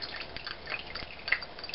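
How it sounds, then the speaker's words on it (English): Hot bacon grease drips from a pan just poured off, a faint, scattered patter of small droplets with a few sharper isolated drips, close by and with no talk over it. "Wait till that stops dripping."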